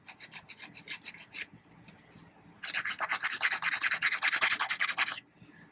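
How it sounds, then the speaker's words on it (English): A nail file rasps across fingernails in quick back-and-forth strokes, a rhythmic scratchy burst, a pause, then a longer run of fast even strokes, close and alone. "Now filing in this motion is going to further help that shape."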